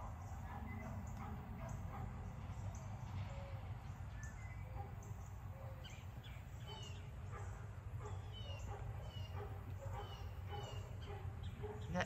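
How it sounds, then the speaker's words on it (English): A dog barks and yips faintly in the distance, scattered bursts over a low steady background hum. "That dog's barking."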